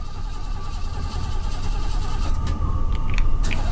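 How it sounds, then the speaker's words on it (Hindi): Within the horror game Fears to Fathom, on a haunted highway at night, a car engine cranks and idles roughly without catching, a steady low mechanical rumble heard up close with faint clicks near the end. "मेरी गाड़ी क्यों नहीं स्टार्ट हो रही"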